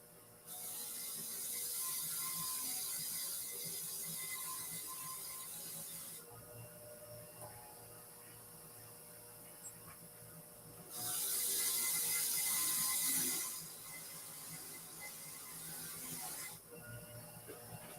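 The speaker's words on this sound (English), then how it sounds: "I'm just gonna clean it up with my wire wheel" A wire wheel scrubs rust off a small dark metal part in a steady whirring, gritty hiss, with a louder burst of contact partway through and no talking.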